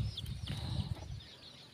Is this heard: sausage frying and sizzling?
no